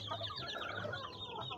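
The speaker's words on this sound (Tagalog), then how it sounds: "yan yung mga bagong papisan natin ng mga sisiw." Newly hatched chicks cheep rapidly in a brief close burst, mixed with soft low clucking from their mother hens.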